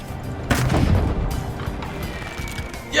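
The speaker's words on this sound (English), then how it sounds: "You can actually shoot back at the attackers with ballistas and cannons of your own." Ballista and cannon fire during a castle siege in Conqueror's Blade: a heavy boom lands near the start, followed by rumbling, scattered impacts and battle noise, then another sharp blast right at the end.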